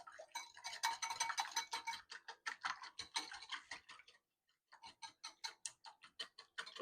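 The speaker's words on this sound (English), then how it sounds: "we're going to give that a good whisk" Eggs, milk and oil whisked in a bowl for cookies-and-cream muffins: rapid, rhythmic clicking strokes, close and steady, broken by a short pause before the beating resumes at a slightly slower pace.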